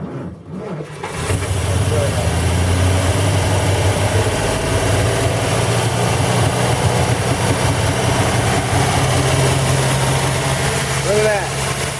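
A 1940 Buick straight-eight engine catches and settles into a steady idle after its first start in 30 years, a continuous low rumble that follows a brief quiet moment and runs on evenly to the end.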